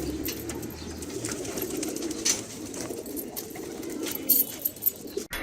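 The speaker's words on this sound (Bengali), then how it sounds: "হাই ফ্লায়ার কবুতরগুলো আর গ্রিবাজ কবুতরগুলো একটু দেখেন" High flyer and giribaz pigeons in a loft cage, giving soft low cooing that runs steadily through the clip with a few sharper rustles and bumps near the end.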